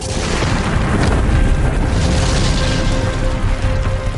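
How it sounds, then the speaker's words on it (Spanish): A loud, sustained explosive roar of a cannon on a ship's deck catching fire and exploding, a dense rumbling boom that fills the whole clip without pause. "Uno de los cañones en la cubierta se incendió y explotó."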